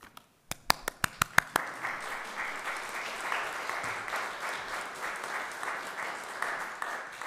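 A church congregation bursts into applause during a Sunday Advent worship service, opening with a few sharp separate claps before settling into steady, sustained clapping from the whole room at moderate distance.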